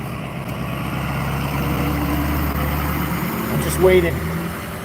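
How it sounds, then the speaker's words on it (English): A big truck with a loud engine rumbles past a tiny house on wheels, a steady low drone under a person speaking, swelling briefly near the end. "Big truck with loud engine just went by."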